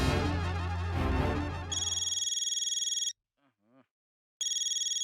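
An electronic telephone rings in a TV sitcom scene, first in a two-second burst after a stretch of music, then again after a short pause.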